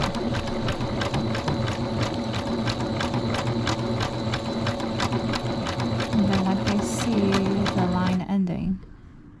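Sewing machine stitching a zigzag line while a two-piece pant suit is made, running steadily with a fast, even needle rhythm for about eight seconds and then stopping, with a person talking over it.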